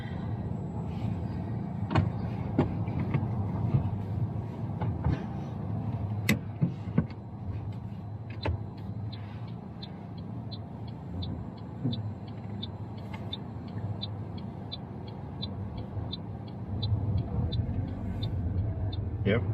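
A manual car idles as a learner driver gets ready to move off, its low engine rumble steady inside the cabin, with a few knocks and clicks and a ticking indicator, while people talk quietly.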